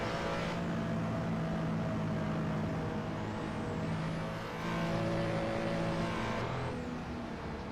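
A V8 car engine in the Assetto Corsa racing game on PS4 drones steadily under load, revving and shifting pitch as it drives, loud and continuous with no talk.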